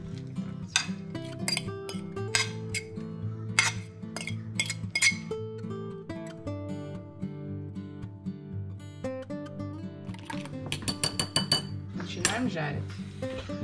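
A fork scrapes and clinks against a dish while mashing food into a purée, in a series of irregular metallic taps, with faint background music underneath.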